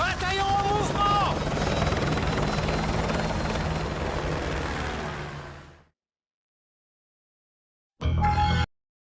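Helicopter from the video game Modern Warfare 2 roars with a loud, steady rotor wash for about six seconds, then cuts off to silence before a short loud burst returns near the end.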